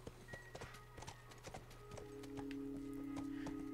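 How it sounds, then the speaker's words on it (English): Horse hooves clip-clop steadily at a walking pace in The Last of Us video game, a regular rhythm of hard knocks over ambient background with a low sustained tone rising toward the end. "Bringing that horse through here."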